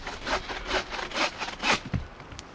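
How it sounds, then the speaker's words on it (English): A saw cutting through wood at a winter campsite, with about six quick back-and-forth strokes, close and moderately loud, a faint thump near the end. "So it works for sawing."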